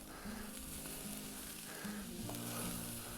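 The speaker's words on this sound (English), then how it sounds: "You can hear it cooking." Steady sizzling and crackling of meat frying on a hot flat top, continuous and close, with faint low tones underneath and no talking.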